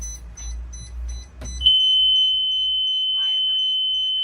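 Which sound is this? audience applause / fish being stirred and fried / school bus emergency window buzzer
school bus emergency window buzzer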